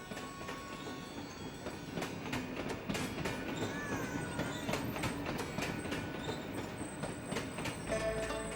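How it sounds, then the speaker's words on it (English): Narrow-gauge train running through a deep gorge west of Kakku, heard as a steady rolling rumble with rhythmic wheel clatter, metallic clanks and occasional faint squeals, close and continuous throughout. "Trains from Tangi follow the narrow-gauge track southwards through a deep gorge west of Kakku"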